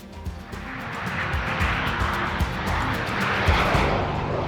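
Red Arrows display jet flying in gusty, darkening conditions, a steady broadband engine roar sustained and fairly loud throughout, with wind buffeting underneath.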